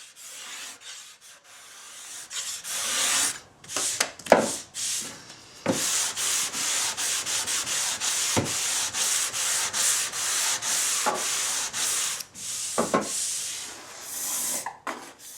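Steady, close hissing of sandpaper rubbed back and forth across wood, continuous strokes with brief pauses and occasional knocks.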